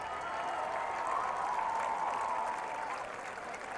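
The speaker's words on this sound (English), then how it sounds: "Let's give the junior cheerleaders a round of applause." A crowd at a high school football game between Sioux Falls Roosevelt and O'Gorman applauds the junior cheerleaders, a steady wash of clapping from a large group heard from a distance and easing slightly at the end.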